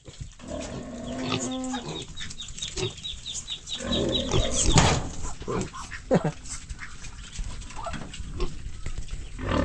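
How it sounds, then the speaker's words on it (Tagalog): An agitated native pig on a farm, being fed leftover vegetables, gives loud grunts and squeals in bursts among other livestock noises, with a brief voice nearby. "Galit yung isang baboy eh."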